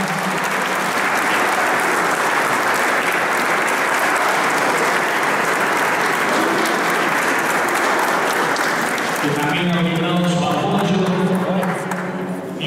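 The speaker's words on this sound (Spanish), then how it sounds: "el aplauso es un aplauso fuerte para ella" Loud, sustained applause from a church congregation during a communion mass at a patronal festival, continuing for the full stretch while a voice speaks over it near the end.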